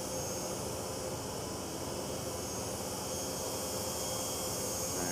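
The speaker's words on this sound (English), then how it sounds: "And blower operating there just to keep some circulating air on Tom Fleming" A blower pushes circulating air into a Ferrari Challenge race car at the Estoril circuit, a steady, even hiss and whoosh of moderate loudness that does not change, with no voices.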